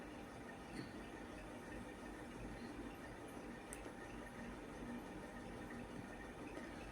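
Water trickles gradually into egg bonda batter as it is mixed, a steady, soft, close wet hiss lasting several seconds with faint stirring and no voices.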